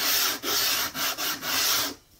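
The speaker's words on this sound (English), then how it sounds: "I have a little sanding block, and I'm just going to go in and round off all these sharp corners" A small sanding block rubs back and forth over the sharp corners of a hard painting panel, giving five steady, close, loud abrasive strokes with short pauses between them, then stopping.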